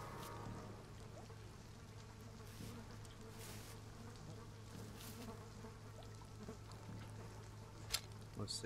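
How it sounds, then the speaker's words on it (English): A steady bee buzzing drone in the video game We Happy Few runs throughout, moderately loud and continuous, with faint background ambience and a brief click near the end. "there's bees up there, it looks like"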